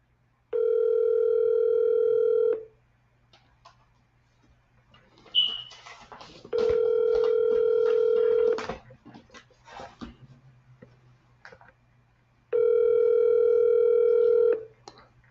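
A telephone rings on a redial, three long, steady ringback tones roughly five seconds apart, each about two seconds long, with faint handling clicks between them.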